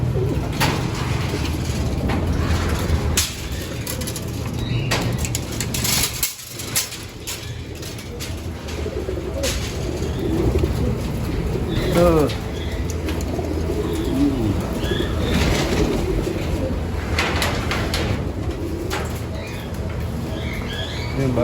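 Pigeons cooing inside a loft or aviary, a dense, continuous chorus of low throaty coos and rustling from many birds close by, steady throughout with occasional sharper calls and wing movement.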